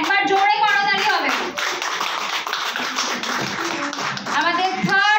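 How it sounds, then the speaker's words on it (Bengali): Audience clapping at the Indie International Film Festival 2024 prize distribution ceremony, a dense steady patter of hands between stretches of speech from a host at the start and end. "একবার জোরে করতালি হবে।"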